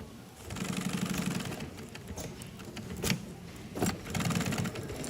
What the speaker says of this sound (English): Follow marks to sew on 1-inch hook and loop.